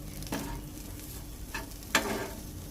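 Chicken frying in a pan with curry leaves and no oil, with a soft steady sizzle broken by three brief scraping stirs, close but fairly quiet and with no speech.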